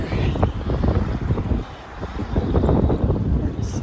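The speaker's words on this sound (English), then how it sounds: "Wind's blowing." Wind gusting outdoors near a church, buffeting the microphone in loud, uneven rumbling bursts, with a voice speaking briefly over it.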